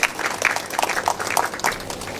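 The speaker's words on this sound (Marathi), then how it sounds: "त्यांच्यासाठी सुद्धा जोरदार टाळ्या झाल्या पाहिजेत" An audience claps at an inauguration ceremony for a research and development centre, a brief burst of many hands applauding in a moderately loud, steady patter.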